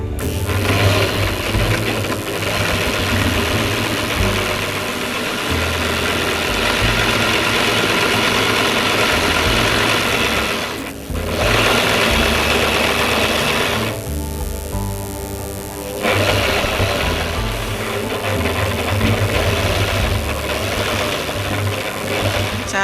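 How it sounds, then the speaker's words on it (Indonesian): Sewing machine running steadily while stitching a straight seam on fabric, a continuous mechanical whir with a short pause near the middle before the motor resumes. "Setelah itu dijahit lurus."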